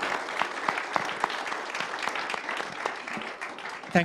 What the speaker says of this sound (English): I'd like to give a round of applause, invite you to also give a round of applause to the panelists